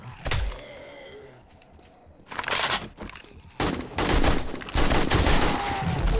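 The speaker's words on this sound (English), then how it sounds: "We got the kill, and I fired my gun really loudly." Gunfire from a weapon in the survival video game 7 Days to Die: a sharp shot near the start, then several loud, sustained bursts of blasting noise that run one after another with brief quieter gaps.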